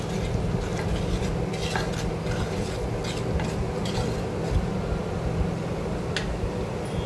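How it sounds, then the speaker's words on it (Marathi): Ghati masala frying in oil in a clay pot for chicken rassa, a continuous dense sizzling hiss with occasional faint scrapes and clinks of stirring, no voices. "मसाला चांगला तेलामध्ये आपल्याला तळून घ्यायचा आहे"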